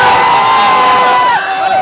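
Excited fans crowd around Pawan Singh at his nomination, a loud, dense wall of shouting and cheering voices that dips slightly toward the end.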